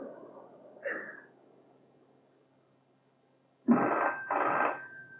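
A telephone in a 1980 radio drama rings in two clear, fairly loud bursts near the end, after a few faint earlier sounds and a quiet pause.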